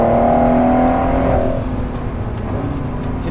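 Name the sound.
Ford GT sports car engine driving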